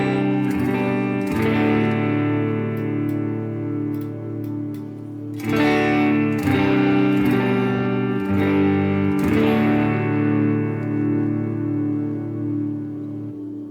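Sustained electric guitar chords ring out through a Line 6 POD Go dynamic plate reverb, warm and lush, each strum blooming and decaying smoothly into the next, with no talking.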